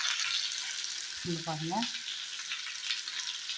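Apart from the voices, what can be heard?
marinated lemon pepper chicken pieces frying in a pan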